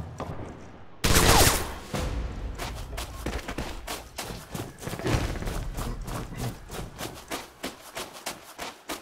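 Gunfire trades back and forth in a video game battle against an enemy machine gun: a loud burst of shooting erupts, then rapid, evenly spaced shots rattle on steadily through the rest.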